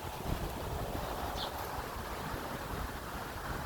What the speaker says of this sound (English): I would bet you if this wind picks up